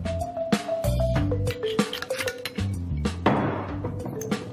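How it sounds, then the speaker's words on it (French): A pestle pounds capers, pesto and olive oil in a mortar, giving a series of sharp, close clinks and knocks at an uneven pace while music plays steadily underneath. "à piler avec le pilon"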